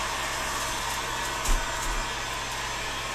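A heat source, most likely a heat gun, blows steadily on PVC pipe that is being bent into a Manchu-style bow. The rushing, airy hiss is continuous and close, with a brief bump partway through.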